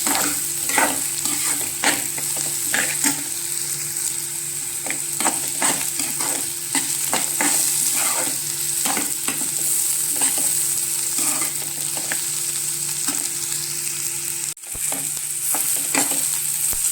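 Chopped onion and tomato sauté in a pan for egg bhurji, a continuous sizzle broken by frequent scraping strokes of a spatula. The stirring is near and steady, with no talking.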